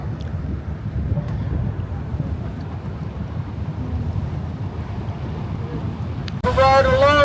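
Jet boat on the Rogue River easing its speed, a low droning engine rumble mixed with wind and water rush, followed by a sharp louder burst of noise near the end.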